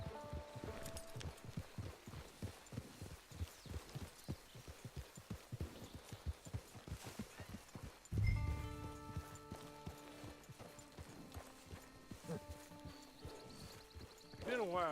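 Horse hooves clip-clopping in the video game Red Dead Redemption 2, a steady rhythmic trot of close hoofbeats that fades as music swells, with voices talking over it.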